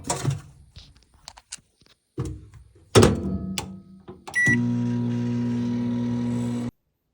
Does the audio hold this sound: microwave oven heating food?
yes